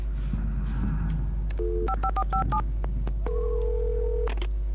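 Telephone keypad dialing in the video game Alan Wake: clusters of short, clear dual-tone beeps pressed in quick succession, followed by a longer steady tone, over a constant low hum with no talk.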